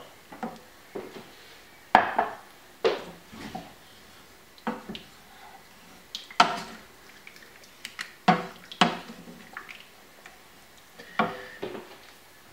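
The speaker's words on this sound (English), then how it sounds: "just use your spoon to scrape the bottom of the pan" A spoon scrapes the bottom of a pan of spiced noodle soup stock, giving a string of short, distinct knocks and scrapes at an uneven rhythm, close and fairly quiet, with no talking.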